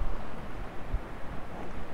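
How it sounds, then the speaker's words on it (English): A loud river rushes near a campsite at night, a continuous low, rumbling wash with gusty surges, close and filling the scene with no voices. "But there's also a river."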